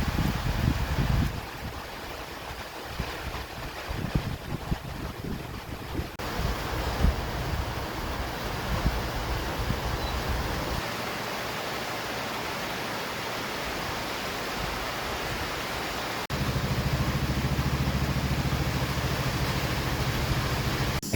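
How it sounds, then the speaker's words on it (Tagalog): Heavy rain and wind in a rural barangay make a steady, dense broadband roar that stays constant throughout, with a few abrupt shifts in level and no voices. "Kinabukasan ng umaga, malakas pa rin ang ulan."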